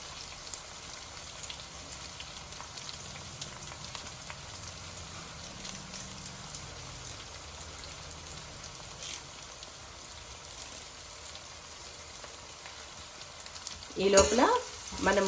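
Curry leaves crackle and fry in hot oil for a taro curry, a steady close sizzle throughout with a sharper burst of spitting near the end; no talking.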